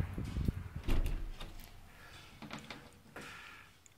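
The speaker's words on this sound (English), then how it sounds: "Let me close the door." A door is shut in a small room during a solar panel setup, with a few knocks and a scraping slide followed by quieter handling sounds.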